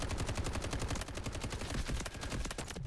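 Rapid automatic gunfire from the shooter game Delta Force, a dense, loud stream of shots with brief pauses, ending abruptly.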